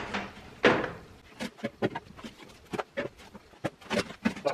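A metal drawer holding a grinder in a Husky 52-inch tool box is handled amid a series of close, sharp clunks and rattles of metal parts and tools shifting, irregular and varied in loudness.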